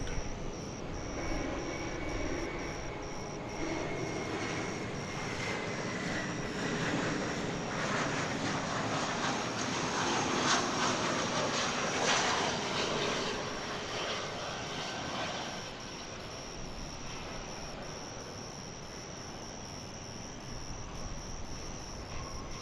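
A passenger plane from Portland at DFW Airport, engine drone rising to a peak near the middle then slowly fading, with crickets chirping faintly in the background.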